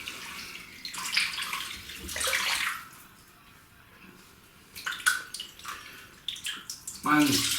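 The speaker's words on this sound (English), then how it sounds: "Let's get some water in the sink." Tap water runs into a bathroom sink during a wet shave with a razor, a hissy splashing rush that comes in loud bursts with quieter gaps, and a voice talks between them.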